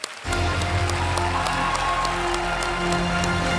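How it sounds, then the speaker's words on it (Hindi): A KBC television studio audience breaks into loud, sustained applause, with steady clapping from a large crowd that starts abruptly and continues at full strength throughout. "इतनी जोर से आप लोग ताली बजाते हैं हम थक जाते हैं"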